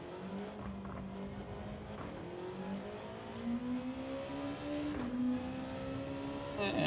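A Group 2 Honda NSX race car engine in Gran Turismo 7 revving and climbing steadily through the gears, a continuous loud whine that rises in pitch with brief shifts.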